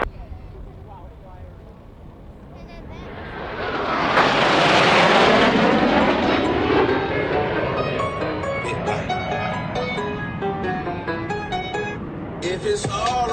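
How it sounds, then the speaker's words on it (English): Two Blue Angels jets approach the flight line at an airshow at about 400 miles per hour, a roaring jet sweep that swells to a loud peak and slowly fades, with an announcer talking over it. "From behind the spectator area, Blue Angels 5 and 6 are approaching the flight line at 400 miles per hour."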